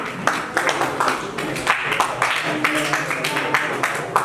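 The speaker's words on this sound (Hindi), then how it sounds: "दोनों के लिए बहुत बहुत स्वागत, जोरदार तालियां बजाएं" Audience clapping at a seminar honouring a vice-chancellor and principal at a Swami Dayanand Saraswati birth anniversary event, a steady crowd applause with scattered sharper claps, lasting throughout at moderate loudness.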